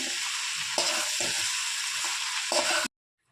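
Boiled peas and potatoes being stirred into a frying chutney, steady sizzling with several scraping stirs, ending abruptly in silence.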